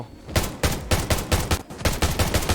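Rapid gunfire from an invisible gun in the video game Undawn, a steady string of about nine loud, sharp shots in quick rhythmic bursts, heard alone and close.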